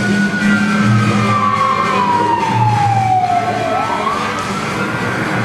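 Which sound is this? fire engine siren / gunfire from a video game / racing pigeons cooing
fire engine siren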